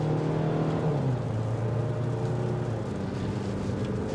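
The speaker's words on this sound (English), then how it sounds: "Bashing on the gas." A 2025 Hyundai Tucson SEL Convenience accelerating hard, engine drone heard from inside with a steady tone that holds and then drops slightly as it pulls, continuous and moderately loud, no talking.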